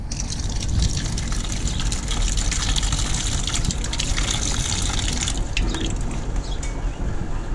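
Fruit is washed under steadily gushing water, a loud continuous splashing and pouring that runs without pause from start to finish. No one speaks.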